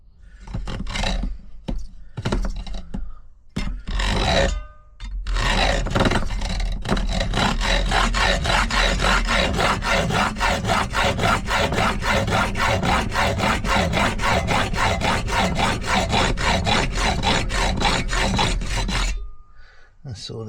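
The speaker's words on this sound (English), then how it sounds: "My hacksaw" A locksmith's hacksaw cuts through metal in steady, fast back-and-forth strokes, loud and close, running unbroken for about fourteen seconds after a few hesitant starting strokes.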